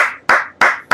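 Four sharp hand claps in a steady rhythm about a third of a second apart, close and fairly loud, each ringing out briefly before the next.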